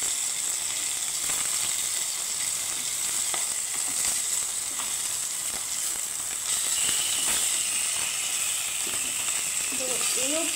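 Fish fried on both sides in hot oil, a steady moderate sizzle and hiss continuing evenly close by.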